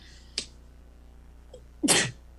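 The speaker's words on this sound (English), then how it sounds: "excuse me, I'm about to sneeze." A single loud sneeze bursts out near the end, preceded by a sharp intake of breath and a faint catch; otherwise quiet.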